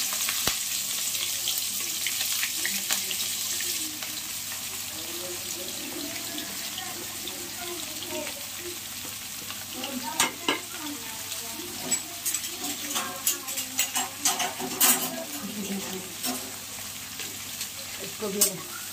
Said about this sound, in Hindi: इसको भी लाइट ब्राउन होने तक भूनते रहेंगे।